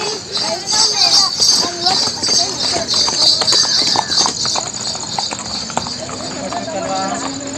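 A horse's hooves clip-clop in an uneven, continuous rhythm nearby while children play around it, with people talking throughout.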